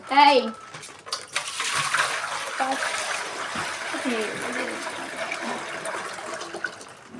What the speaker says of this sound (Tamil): நம்ம வந்து மீன் வந்து உள்ளே ஊற்ற போகிறோம்